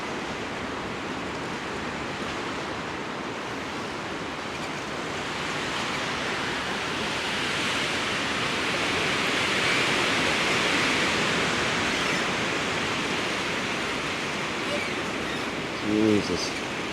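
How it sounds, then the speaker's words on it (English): Strong gusts of wind roar through swaying trees at a campsite at night, a loud, broad, continuous rush that swells and surges over the full length without letup. "the gusts of wind coming"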